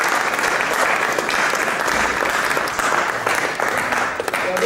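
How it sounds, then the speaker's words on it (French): A room full of people applauds a student after a first piano masterclass lesson, a loud, steady wash of clapping that lasts the whole stretch. "pour un premier cours, on l'applaudit"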